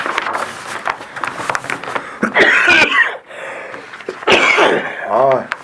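Harsh coughing and throat-clearing bursts mixed with a voice talking, close and loud, with several sharp noisy bursts spread across the stretch.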